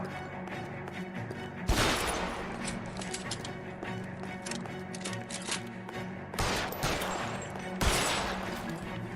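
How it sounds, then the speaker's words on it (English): Several bursts of gunfire in the L.A. Noire crime game ring out. There is one loud volley early, then two more sharp bursts later, with rattling shots and a steady background hum in between. "Opening fire."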